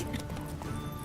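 Hooves clip-clop rapidly as a horse gallops in The Witcher 3, a brief continuous run heard up close amid game background sound.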